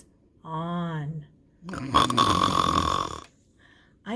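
A voice imitating a bear snoring, with two drawn-out, rumbling snore sounds separated by a short pause, close and fairly loud, followed by the start of a third.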